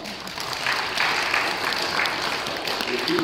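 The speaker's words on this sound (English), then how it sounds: "applause" Church congregation giving a round of applause, a steady, moderately loud patter of many hands clapping throughout.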